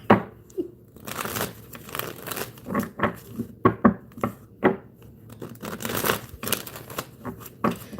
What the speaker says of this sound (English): Let me shuffle really good.